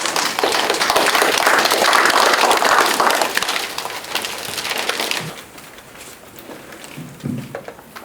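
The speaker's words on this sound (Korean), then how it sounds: "힘찬 박수 한번 보내주십시오." An audience at a community council officers' inauguration ceremony in a city hall meeting room bursts into loud, dense applause that holds steady for about five seconds, then thins to scattered claps and soft murmurs.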